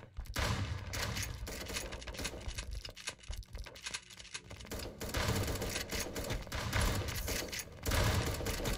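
Dense, rapid gunfire and shotgun blasts from the battle royale shooter 1v1.LOL, a near-continuous clattering barrage with a brief lull in the middle before it resumes loud and close.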